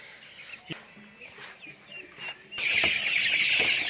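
Farm chickens, some of them fairly large, cluck and call in short bursts, then a louder, denser chorus of hens rises and holds, close by with no talk.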